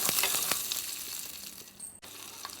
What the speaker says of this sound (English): Then add the small onions.